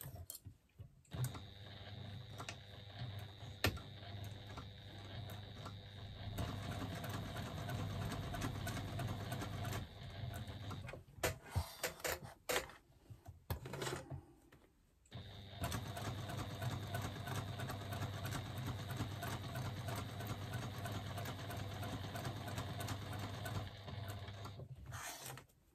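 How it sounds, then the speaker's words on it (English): A sewing machine stitches a seam with a quarter-inch allowance, running in long steady bursts of rapid mechanical whirring, pausing and stopping briefly around the middle before starting again, with no voices. "I'm going to stitch down, across and up again, using a 1/4 inch seam allowance."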